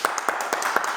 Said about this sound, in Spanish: Buena, aplausos.